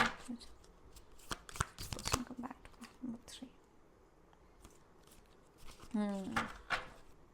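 Tarot cards shuffled and drawn during a love reading: a series of sharp, close riffling and slapping bursts early on, then quieter card handling, with a brief spoken voice near the end.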